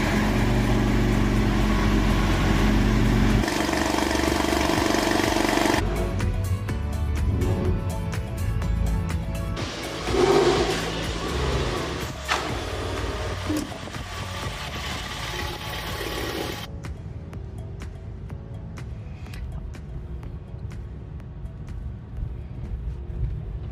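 A Porsche 911 with a freshly rebuilt engine drives along, giving a steady mid-pitched engine drone that shifts tone as the car moves through gears. It stays continuous and fairly loud throughout, with no talk.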